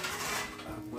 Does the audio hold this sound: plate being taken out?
yes